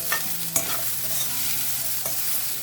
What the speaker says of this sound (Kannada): ಪಕ್ಕಕ್ಕೆ ನಾವು ಕಾಲಿಫ್ಲವರನ್ನು ಫ್ರೈ ಮಾಡಿಕೊಡ್ತಾ ಇದ್ದೀವಿ